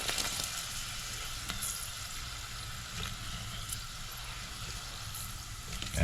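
Prawn crackers (shrimp chips) frying in hot oil give a steady, close, crackling sizzle with occasional sharper pops, continuous and alone without talk.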